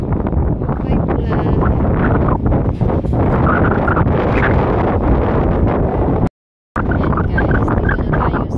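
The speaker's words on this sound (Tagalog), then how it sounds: "dito na tayo sa tabing dagat. Which is so mahangin" Strong wind at a seashore roars steadily into the microphone as loud, continuous buffeting rumble, cut by a brief dropout near the end.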